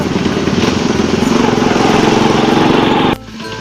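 An old motorcycle engine, bought in Bandung, runs at a loud, steady, throaty revving pitch for about three seconds, then cuts abruptly to a quieter idle.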